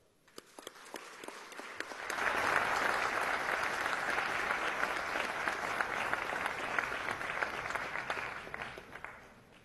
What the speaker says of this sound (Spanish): Todos los aplausos